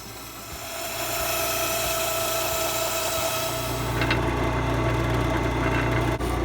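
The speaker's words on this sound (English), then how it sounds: "So now I'll go ahead and cut this out on the metal bandsaw." A metal bandsaw cuts through a metal piece with a loud, steady, grinding whine that holds for several seconds with no break, close to the listener and with no talking.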